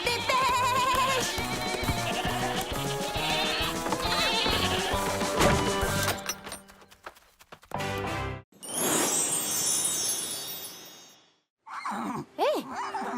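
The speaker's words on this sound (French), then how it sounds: "Allez les chèvres, on se dépêche." Animated goats bleat amid cartoon music and talking, with the calls rising over a busy score that drops out in places.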